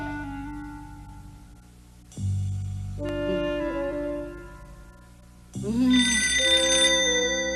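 Cartoon telephone in a bedroom at night rings in bursts, bright electronic ring tones separated by short pauses and musical stings, fairly quiet overall, no speech.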